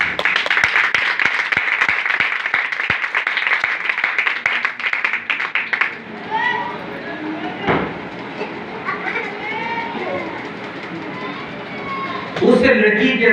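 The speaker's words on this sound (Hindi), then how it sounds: "तुम्हारी तालियां बड़ी सुस्त है" A sermon audience claps in a dense, steady patter for about six seconds, then the clapping stops and a voice talks on over a quieter hall.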